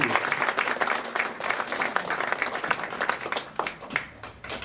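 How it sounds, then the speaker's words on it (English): Audience at a magic club meeting applauding, a dense steady round of clapping that holds for several seconds before thinning out toward the end. "another round of applause"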